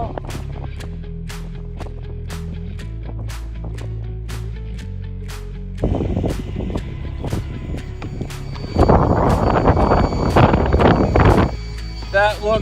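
A 1/16 scale HBX 16890A RC truck on a 3S battery runs at full throttle, its whining motor and tire noise swelling as it passes close, with a loud rushing burst near the end, amid sharp clicks and pops.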